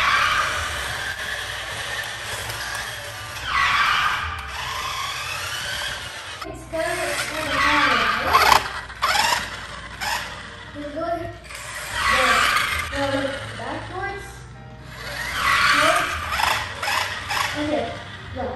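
A Jurassic Park radio-controlled toy car on a test drive, its small motor whirring and gears ratcheting in repeated bursts while people talk excitedly over it.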